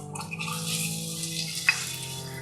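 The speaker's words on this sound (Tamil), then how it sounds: "கொஞ்சோண்டு தண்ணி சேர்த்துக்கிறேன்." Water trickles and pours into a pan of jaggery for melting, a short steady splashing stream close by with a small drip or clink near the end.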